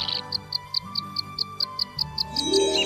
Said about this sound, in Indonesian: Yang indah, bunyi burung,